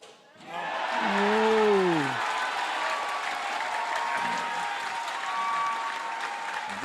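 A squash crowd at the U23 World Squash Championship applauds in a broad, steady patter that swells early and then holds, with a commentator's voice running over it.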